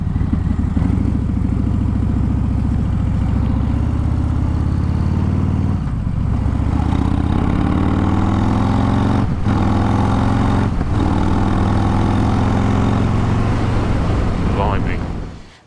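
A Harley-Davidson Fat Bob with a Stage 4 131 engine and an upgraded exhaust pipe rumbles loudly and close, its revs swelling and easing across a continuous run before cutting off at the end.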